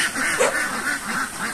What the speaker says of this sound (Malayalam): അപ്പൊ അവിടെ കുറെ താറാവിനെ കൊണ്ട് വളർത്തുന്നുണ്ട്.